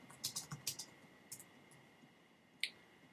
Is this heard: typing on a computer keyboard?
yes